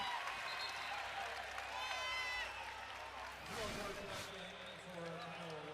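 A volleyball crowd at a Hawai'i versus Long Beach State men's college match is on its feet, a loud continuous roar of cheering and applause filling the arena while a commentator talks over it.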